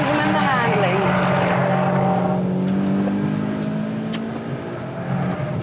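A Mitsubishi Lancer sliding sideways under power on a track, its engine droning loud and steady with tire and wind noise, the pitch easing slightly as the car drifts through the turn.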